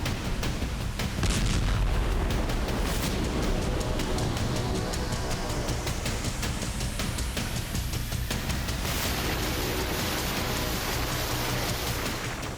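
Explosions from a Ukrainian strike on Belbek airbase near Sevastopol, Crimea, merge into a continuous loud, roaring rumble dense with crackling blasts, with no voices heard.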